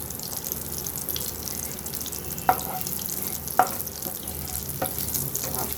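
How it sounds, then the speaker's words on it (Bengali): Panch phoron spices crackle in hot mustard oil in a kadai while broad beans are being cooked. A steady close sizzle runs throughout, broken by a few sharp pops, with no talking. "এই যে সর্ষের তেল দিয়ে দিয়েছি এটা গরম হয়ে গেছে এতে আমি দিয়ে দিলাম পাঁচ ফোড়ন"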